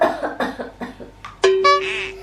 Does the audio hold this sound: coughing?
yes